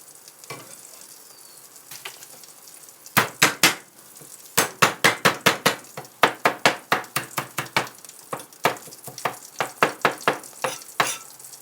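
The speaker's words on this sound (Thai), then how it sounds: "บุกกระเทียมไว้รอจะทำผัดปลากระป๋องค่ะ" Garlic pounded in a mortar for a stir-fried canned-fish dish, sharp repeated thuds in quick irregular bursts, loud and close, with brief pauses between runs.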